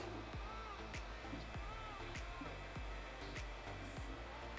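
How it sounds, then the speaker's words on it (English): Cooling fans on an Elegoo Neptune 4 Plus 3D printer blow with a steady close whoosh, punctuated by rhythmic low thumps repeating about every half second. "Apologize if this thing's a little loud, but she is, and these fans do kick."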